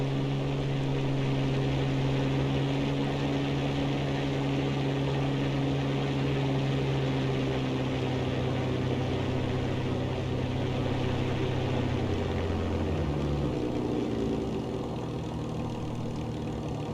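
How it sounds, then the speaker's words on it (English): World War II Spitfire engine in the X-Plane 11 flight simulator, a loud, steady propeller drone with a low throbbing hum that shifts pitch and eases slightly near the end. "Good thing this is a World War II aircraft."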